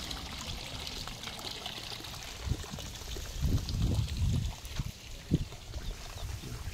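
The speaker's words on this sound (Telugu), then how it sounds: "ఇది ట్యాప్. 24 hours కంటిన్యూ వాటర్ వస్తూనే ఉంటాయి" Water runs from a tap in a steady trickle, with a few louder splashing gurgles partway through.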